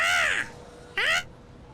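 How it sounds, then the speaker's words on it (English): Two loud, close crow caws, each a harsh descending call, separated by a short pause, heard from a soccer stadium's press area during an evening match with faint crowd ambience between the calls. "A little loud, but it was a crow"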